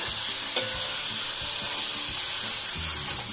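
One kilo of chicken frying in a pan for chicken biryani, a steady close sizzle with stirring scrapes and a couple of sharp clinks.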